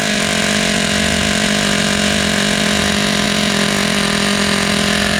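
Team Associated Nitro TC3 RC car nitro engine idling after a throttle trim adjustment, a loud, steady, high-pitched buzzing drone heard up close and continuous throughout.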